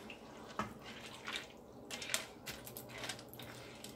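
Pasta stirred through beef broth and heavy whipping cream in a pot, giving soft wet squishes and a few light clinks against the pot, faint and intermittent with no voices.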